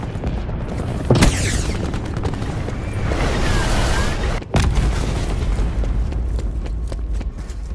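Hellstorm missile strike in Call of Duty Black Ops 4 multiplayer, loud nearby explosions with a sharp blast early on, a rolling boom later and a second big hit, over continuous battlefield rumble.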